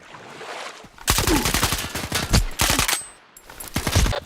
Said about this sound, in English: Gunfire and shit.